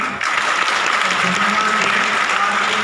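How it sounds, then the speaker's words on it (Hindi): A loud, dense round of clapping from a crowd at a public meeting on silicosis victims welcomes the district collector, starting abruptly and staying steady for about three seconds. "हम उनका स्वागत करें तालियों से"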